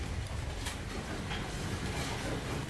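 Indian Pacific passenger train running toward Adelaide, a steady rumbling roar of the moving carriages heard from on board, continuous and moderately loud with no talk over it.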